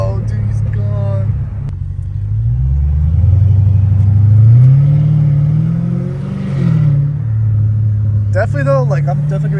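A catless Dodge Hellcat Redeye V8 roars and revs from the driver's seat: deep, loud engine drone that swells and falls through several throttle changes. Brief speech is heard near the start and again at the end.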